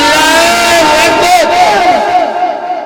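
A mushaira crowd at Paigambarpur, Sitapur chants back loudly in unison after a Takbir slogan. Many voices roar together in a sustained cry that fades toward the end.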